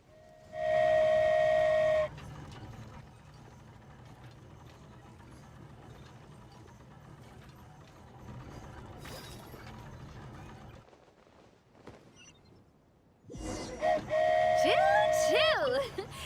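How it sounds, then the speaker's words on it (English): A flying sky train, the Aerial Express in Genshin Impact, departs with loud mechanical clanks and a whistle-like tone at the start, a quieter rumbling ride through the middle, then a loud burst of mechanical whirring and tonal hoots near the end. "Choo-choo! Aerial Express moving out."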